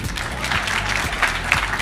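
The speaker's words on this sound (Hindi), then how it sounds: "ताली बजानी चाहिए।" Audience applause at a televised debate, a dense, steady patter of many hands clapping close by for the whole brief moment, with no clear talk over it.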